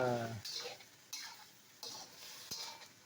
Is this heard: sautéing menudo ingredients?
yes